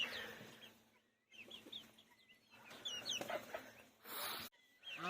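Chickens cluck in a cold-weather farmyard, several birds giving short, repeated calls near and far, with brief quiet gaps and a louder burst toward the end; no talking.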